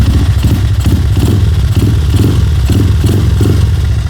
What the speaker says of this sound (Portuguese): O barulho de escapamento, ó, olha aqui, vou mostrar. Ó, é um barulho grave.